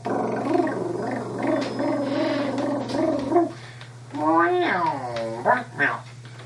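A voice imitates a cat with a series of drawn-out, wavering meows, loud and close, separated by short pauses.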